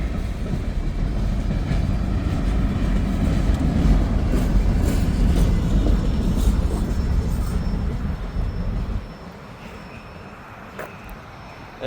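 A CSX freight train rumbles past close by in a loud, steady roar with faint clickety-clack, then drops off sharply as the last cars clear, leaving quieter trailing noise.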